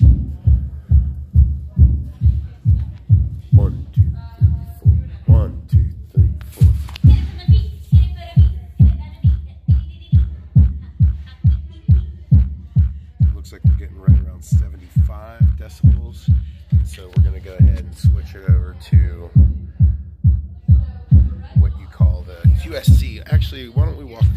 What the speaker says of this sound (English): we're gonna go ahead and kick on this subwoofer, see exactly what kind of decibels we're gonna push out with this thing here